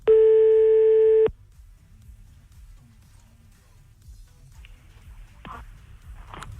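A steady telephone line tone sounds loud and clear for just over a second while a call is placed back to someone, then cuts off into near silence with faint clicks.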